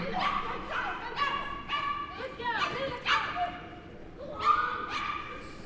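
A small dog yaps and yips in quick, excited bursts while racing around a jumping course at the 2010 Crufts British Open agility competition, its calls mixed with steady commentator talk.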